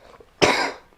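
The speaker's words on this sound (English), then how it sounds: "I usually don't cough." One sharp, close cough bursting out suddenly and fading over about half a second, with near silence around it.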